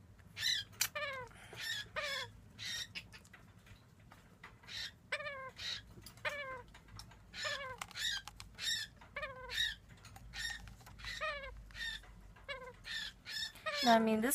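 Baby moustached parakeets squawking over and over in a rapid, chattering stream of high, raspy calls, with a louder cry at the very end.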